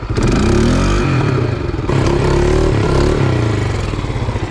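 A Polaris Sportsman 500 ATV under repair, with its carburetor loose from the boot, roars to life and runs loud and close, the engine note rising and falling with rattling clatter throughout.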